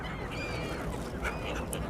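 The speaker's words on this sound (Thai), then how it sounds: "อัน นี้เสียงนกสดๆ เลยนะทุกคนเสียงคล้าย ๆ เป็ดเห็นไหมนกนางนวล" A large flock of seagulls at Bang Pu, Samut Prakan, Thailand, calls continuously during feeding, with overlapping duck-like honks and squawks over a dense, noisy outdoor background.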